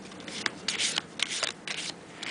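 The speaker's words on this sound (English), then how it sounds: "we pick up the rest of the cards that we don't need now, and we shuffle these again" A deck of playing cards is shuffled up close, crisp riffling bursts repeating several times in quick succession with no talking.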